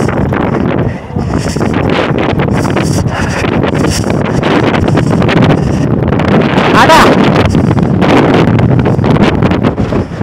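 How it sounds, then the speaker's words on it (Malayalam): Strong wind on a hilltop in Idukki during an offroad motorbike trip buffets the microphone with a loud, continuous roar and rumble for about ten seconds, steady and close, with gusts rising and falling. "ഭയങ്കര കാറ്റ് കേട്ടോ, ഇവിടെ നിന്ന് ഇറങ്ങണം, നിൽക്കാൻ പറ്റാത്ത അവസ്ഥയാണ്"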